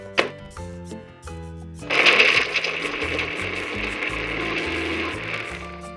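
Herbs and spices, including rosemary, basil, mint and salt, are ground in a mechanical grinder, starting with a few clicks and then becoming a steady, loud ratcheting grind.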